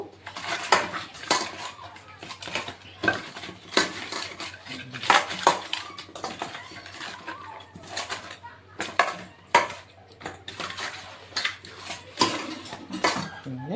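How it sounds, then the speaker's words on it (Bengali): Katal fish pieces mixed by hand with raw oil in a bowl, giving irregular clinks and scrapes against the dish along with wet squelching, while a voice speaks intermittently. "যে সব মাছের মধ্যে একটু কাঁচা তেল দিয়ে আমরা মাখি"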